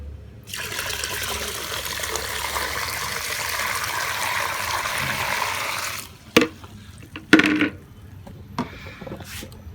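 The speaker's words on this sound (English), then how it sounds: "we're going to add some more water" Water pours steadily into a container for several seconds while mixing homemade plant fertilizer, then stops, followed by a few clunks and splashes.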